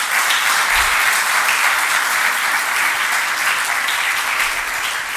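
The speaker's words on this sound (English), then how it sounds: "give a big round of applause for their presence" Audience applause at a Toastmasters keynote grand finale, a steady, full roar of many hands clapping together, loud and unbroken throughout with no talk over it.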